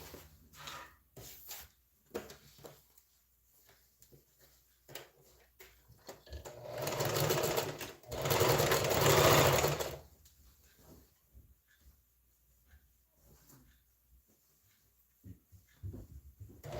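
A sewing machine hems white blouse fabric with a double fold, running in two short loud bursts of stitching with a brief pause between, surrounded by quiet handling noises and rustles.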